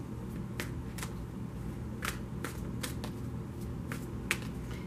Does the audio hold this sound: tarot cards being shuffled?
yes